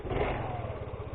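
A Piaggio Liberty 150 scooter engine runs roughly nearby, a lumpy, uneven putter with a rattling pulse.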